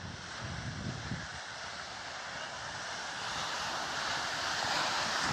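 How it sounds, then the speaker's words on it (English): Surf rolling onto the beach at Ocean City, Maryland, a broad steady wash of waves with wind noise on the microphone, building slightly louder toward the end. "I love the sound of the surf."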